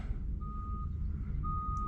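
Reversing beeps from a small yard truck backing up at a trucking yard, two long steady tones over a low engine rumble, moderately distant.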